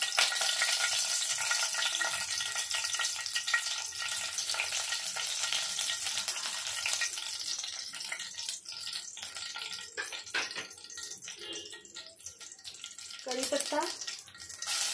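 Curry leaves sizzle and crackle in hot oil for paneer biryani, a continuous frying hiss with some stirring, and a voice talks over part of it.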